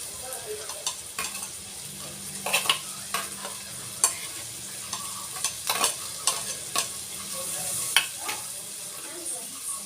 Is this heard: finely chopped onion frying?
yes